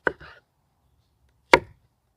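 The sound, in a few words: knife slicing onions into rings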